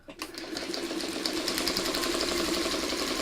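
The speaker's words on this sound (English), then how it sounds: "I had to get Mom's sewing machine out" A sewing machine runs steadily at speed, a dense, rapid mechanical whirring and clatter that starts abruptly and holds constant.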